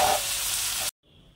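Fish frying in hot oil in a pan, a steady close sizzle with chilli powder just added, cutting off abruptly partway through.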